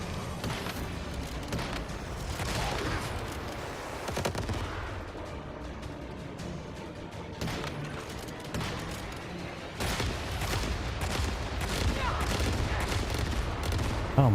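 Rapid sustained gunfire from a boss's Gatling gun in the Once Human video game, a dense, loud rattling barrage running for the whole stretch with heavy impacts and game effects layered over it.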